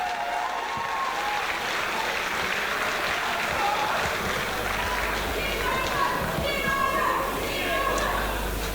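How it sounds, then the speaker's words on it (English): An arena crowd applauds after an amateur boxing bout at a fight night, a dense, steady wash of clapping that fills the whole stretch with a few scattered voices mixed in. "And a round of applause for an extremely brave and determined effort from Makesa Mwanza"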